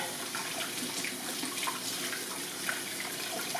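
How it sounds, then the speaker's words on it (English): Water pours steadily from a tap, a soft continuous splashing and trickle close by, with no voices. "let your water continue to run into the bowl."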